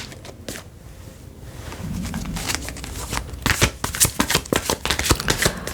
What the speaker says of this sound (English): I'm gonna shuffle them pretty good first before I take any